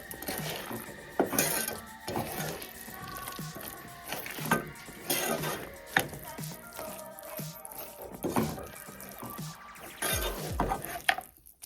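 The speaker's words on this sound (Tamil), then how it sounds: "இதை நல்லா கலரிட்டு நம்ம இப்போ நிப்பாட்டிடலாம். இதை நல்லா கலரி கொடுங்க." Cassava sweet with cashews and raisins being stirred in a pan, giving irregular scraping and clinking of a spoon against metal with soft squishy thuds, close and moderately loud throughout, with no talk.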